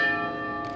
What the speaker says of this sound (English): we ring the mental health bell, Mental Health America's symbol